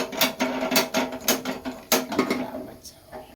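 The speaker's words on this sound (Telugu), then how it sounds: "ఇప్పుడైతే పొయ్యి అంటిస్తున్నా" A kitchen cooking stove being lit: a series of sharp clicks and metallic ratcheting taps at a steady pace, close and fairly quiet, fading out at the end.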